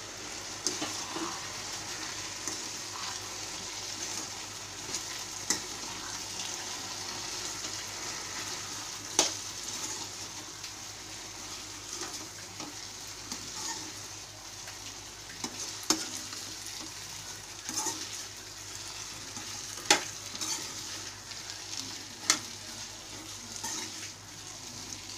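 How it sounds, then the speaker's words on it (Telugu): Vegetable manchurian balls fry in hot oil while being stirred, a steady close sizzle and bubbling with occasional sharp clicks of a utensil against the pan, no voices. "ఇప్పుడు దీనిలో ఈ బాల్స్ దీనిలో వేసేసుకొని ఫ్రై చేసుకుందాం"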